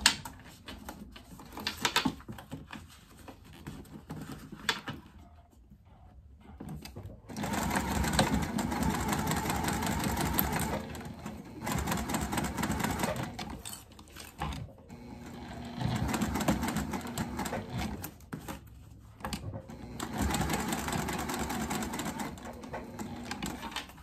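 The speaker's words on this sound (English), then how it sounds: "we are going to top stitch across the top, down this short edge, and then across this bottom as well" Sewing machine top stitching the edges of a waist pack, a fast mechanical whirring hum in several long runs broken by short pauses, close and fairly loud.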